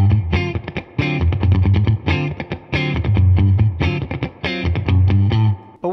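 Distorted electric guitar plays a funky horn line built on a 7 sharp 9 tonality, with tight, punchy rhythmic stabs repeated in short phrases.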